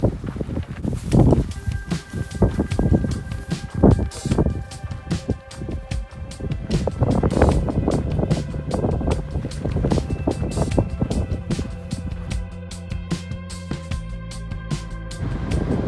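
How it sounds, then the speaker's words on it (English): Strong wind gusts during a sand storm on the Pacific Crest Trail buffet the microphone with heavy low rumbling and irregular thumps that continue without a break for the whole stretch. "I'm sure you can hear the wind down here"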